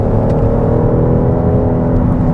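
A 2022 Cadillac XT6 engine drones loud and steady from inside the cabin while driving on a twisty road, a continuous close-up hum and whir with no talk.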